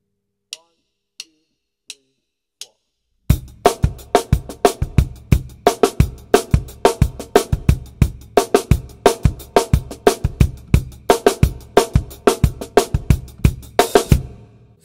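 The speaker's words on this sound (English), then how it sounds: "here is the pattern between bass drum, snare drum and hi-hat, but played straight and more in a funky pop context" Drum kit playing a straight funky pop pattern on bass drum, snare and hi-hat, preceded by four sparse count-in clicks, then a busy, steady groove of crisp hits that is close and fairly loud, with no talking.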